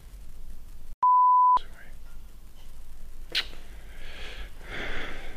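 An electronic alarm system being armed inside an abandoned, fully furnished castle gives one loud steady beep lasting about half a second, followed by rustling and quiet movement.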